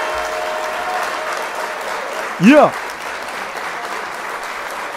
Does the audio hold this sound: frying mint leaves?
no